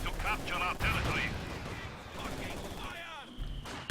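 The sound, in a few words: mortar artillery fire in Company of Heroes 2 video game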